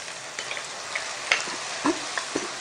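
Vegetables with green onion, capsicum, green chilli and soy sauce stirred in a hot frying pan, a steady soft sizzle broken by a few sharp scrapes and clinks of the spatula, close up, no voices.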